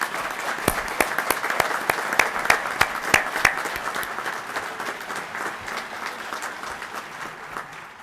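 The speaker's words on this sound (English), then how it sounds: "I believe they deserve a round of applause." A graduation crowd applauding instructors at a technology institute ceremony, dense sustained clapping from a large audience with sharp individual claps standing out, gradually tapering toward the end.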